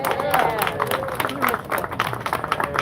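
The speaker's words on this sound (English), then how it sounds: "I want to give him applause to Gustavo" An audience claps and applauds at a city meeting in Santa Ana, a dense, steady run of hand claps under a speaker's amplified voice.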